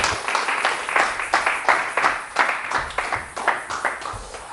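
A church congregation claps in steady, rhythmic unison at a French-language worship service, roughly two claps per second, with faint cheering mixed in.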